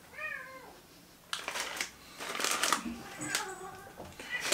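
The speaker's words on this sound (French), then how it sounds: "Nous avons un chat qui est complètement excité." An excited cat meows a few times close by, short rising cries at the start and again near the end, with rustling and crinkling of a snack box being unpacked in between.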